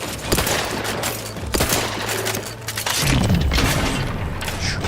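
Gunfire in the video game The Outer Worlds 2, a dense loud burst of rapid shots and booming impacts that carries on continuously, with a heavier rumbling barrage toward the end.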